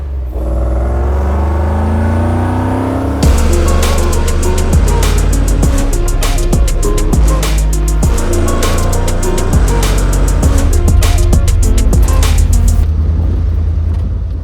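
A loud Ford 302 V8 engine with a failing old fuel pressure regulator rumbles close by, idling low and then revving in a quick series of sharp bursts, with no talking.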